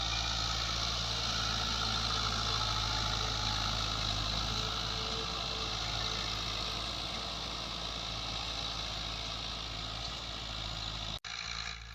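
A Fiat 640 tractor pulling a chisel plough while preparing a field for cotton in Pakistan runs with a loud, steady, close engine drone that barely changes for the whole stretch.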